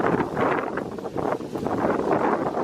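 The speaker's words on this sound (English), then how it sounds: "this wind is just wild" Strong gusts of wind buffet the microphone in a subtropical cottage garden, a continuous loud roaring rush that swells and dips with the gusts.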